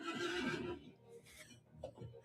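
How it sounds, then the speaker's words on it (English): A horse neighs in The Lord of the Rings Online, a loud, shrill whinny up front that trails off into quieter snorting and faint game sounds, with no talk over it. "Just fell off my horse and broke a collarbone."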